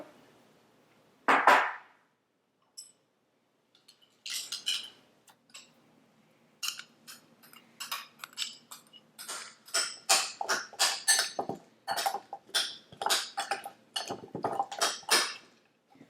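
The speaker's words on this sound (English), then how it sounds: "now we're going to mix the rest of the sauce into the taro" Sauce is mixed into chopped taro with garlic cloves, giving irregular clicks, taps and wet scrapes that start sparse, then quicken into a busy, close-up run of clatter.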